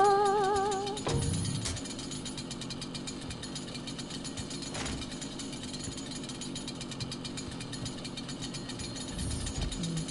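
A chainsaw revs and grinds steadily in the video game Doom, a continuous rattling mechanical drone that stays loud and dense for the full stretch after a brief opening burst.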